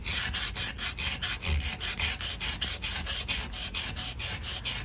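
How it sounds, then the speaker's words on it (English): Curb rash on a car wheel being sanded by hand with a small piece of 80-grit sandpaper, a close, steady back-and-forth scratchy rasp in quick regular strokes, loud and continuous with no talking. "I'm gonna start off with a small piece of 80 grit, and I'm gonna just start sanding some of this down here."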